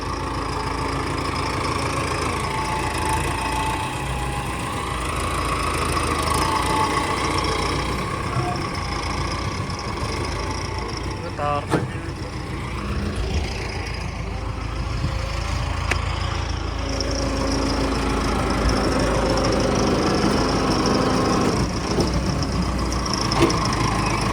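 A tractor engine rumbles continuously at close range with a steady mid-pitched tone, idling with a faint knocking rhythm and some clatter, with no voices.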